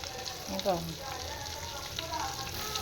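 Stuffed eggplants slide one by one into hot oil with Malvani masala, giving a steady soft sizzle with a few brief clatters and faint background speech.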